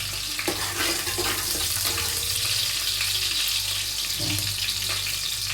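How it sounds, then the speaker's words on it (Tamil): Green chillies fry in a pan with oil for a mushroom gravy. A steady, close sizzle runs throughout, with occasional stirring scrapes. "கொஞ்சம் நல்லா வதங்கணும், பச்சை மிளகாய் வதங்கணும்."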